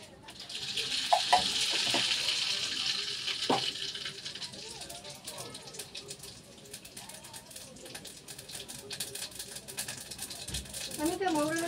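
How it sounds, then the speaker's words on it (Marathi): Cumin and mustard seeds fry in hot oil for tempering, giving a soft hiss of sizzling near the start that fades into quieter crackles and kitchen noise. "मस्तपैकी जिरा मोहरीची फोडणी द्यायची."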